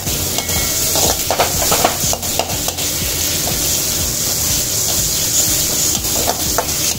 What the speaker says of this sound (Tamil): இதையும் சேர்த்து நல்லா வதக்கி வச்சுருவோம்.